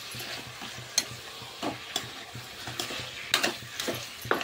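Raw chicken pieces, washed clean, being mixed by hand in a bowl, giving soft irregular wet squelches and scrapes with a few sharper knocks, close and fairly quiet, with no one talking.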